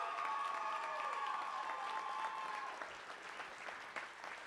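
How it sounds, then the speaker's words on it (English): An audience at an awards event breaks into sustained applause, dense clapping with a few cheers mixed in, loud at first and thinning slightly toward the end. "Big round of applause."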